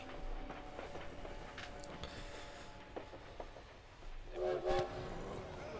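A steam train at a Paris railway depot in the Valiant Hearts video game gives sustained horn or whistle tones over a steady rumble of rail noise, with a louder blast near the end.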